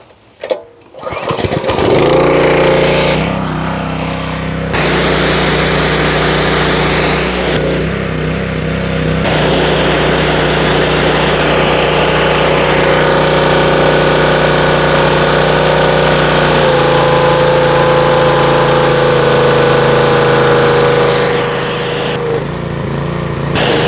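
A small gasoline engine on a pressure washer runs steadily and loudly after a brief start, its drone holding close and constant with slight dips while someone switches connections.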